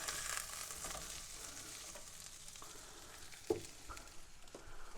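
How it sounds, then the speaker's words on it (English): Sausages sizzle in a pan while frying outdoors at a reservoir, a steady soft hiss with a few brief clinks and knocks partway through, and no one talking. "So we've got our little sizzlers in. We'll turn them over now and again."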